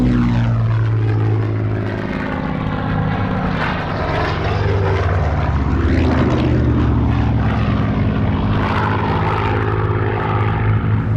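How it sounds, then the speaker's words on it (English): A Hurricane and a Spitfire Mk 5B propeller fighters fly past at an airshow, their piston engines droning loudly and steadily throughout, with the pitch sweeping down as the aircraft pass close by. "Hurricane was joined by the flight Spitfire Mark"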